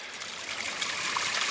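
Water and trapped air rush out of a hydraulic ram pump line through a valve held open, a steady close hiss and splashing trickle with no talk.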